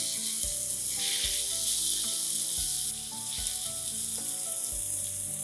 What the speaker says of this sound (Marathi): आता ह्यात घालूया 1 बारीक चिरलेला टोमॅटो. मिक्स करूया.